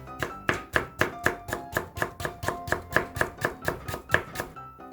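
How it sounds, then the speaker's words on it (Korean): A knife julienning radish into thin matchsticks on a cutting board for bibimbap, sounding as a steady, evenly spaced run of about eighteen crisp, close chops with nobody talking. "무를 채 썰어 주시면 되겠습니다"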